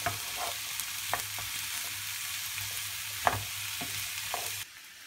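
Kefta frying with onion in a pan gives a steady soft sizzle with occasional stirring scrapes, ending abruptly near the close.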